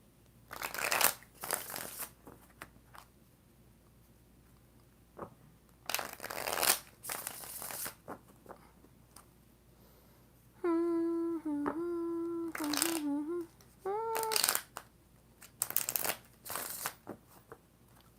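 Tarot cards are shuffled in several separate rustling bursts, close and fairly quiet, with a brief tonal hum in the middle and pauses between the shuffles.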